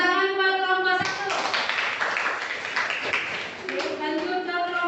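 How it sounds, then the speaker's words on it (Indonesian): A school classroom claps for a student group, a burst of mixed, uneven hand claps lasting a few seconds between stretches of a voice speaking, fairly close and loud. "Tepuk tangan buat kelompok 1."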